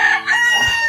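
Pet chickens in a typhoon-damaged coop, with a rooster crowing loudly and close by, a short cock-a-doodle-doo call.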